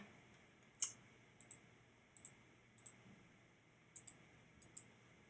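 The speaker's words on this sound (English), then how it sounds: "I'm clicking on each item to see sort of what I can do with it." A computer mouse clicks softly during website editing, about a dozen quiet, sharp clicks spaced irregularly over a faint steady background hum.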